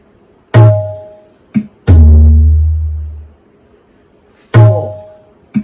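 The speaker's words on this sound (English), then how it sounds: "And the theka sounds something like this." Tabla theka in Deepchandi taal of 14 beats, played from an app: a few sharp resonant drum strokes with deep booming bass tones that ring and decay, spaced unevenly, close and loud.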